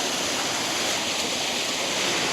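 Fresh mountain water is pressed through a handheld water filter during a wilderness trip, making a steady, loud, close rushing hiss that runs unbroken throughout with no talking.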